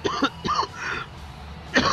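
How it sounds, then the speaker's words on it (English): A commentator's cough during a wrestling commentary, a few short harsh bursts close to the microphone, the last one loud and sharp. "sorry as I cough there"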